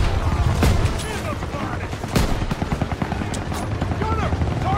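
Game battle scene from Call of Duty WWII with gunfire at an MG42 machine gun nest: dense bursts of shots and sharp cracks amid a rumbling din, with voices calling out over the fighting.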